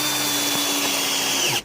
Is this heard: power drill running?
yes